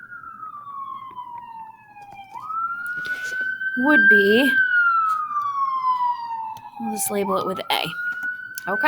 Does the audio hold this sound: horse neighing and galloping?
no